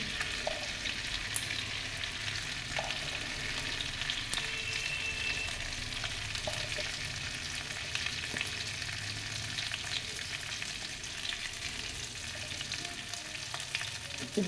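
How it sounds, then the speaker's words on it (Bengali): Whole garam masala sputters in hot oil as tempering for a prawn malai curry, a continuous loud sizzle with occasional sharp pops and crackles. "দিয়ে দিচ্ছি একটু গোটা গরম মশলা ফোড়নে"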